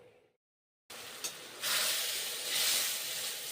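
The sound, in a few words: water added to poppy seed paste in hot oil sizzling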